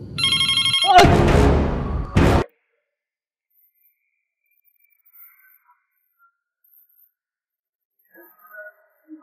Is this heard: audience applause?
no